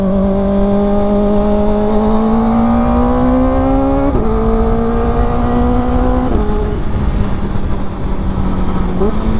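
A Kawasaki Ninja ZX4RR revs hard on a ride, its high-pitched inline-four wail climbing and jumping in pitch through quick throttle blips, loud and close over continuous wind rush.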